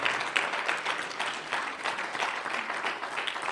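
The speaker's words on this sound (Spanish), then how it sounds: "Denle un aplauso al Señor Jesucristo, hermanos." Congregation applause in a church service, a dense wash of clapping from many hands that stays moderately loud and even for a few seconds with no talk over it.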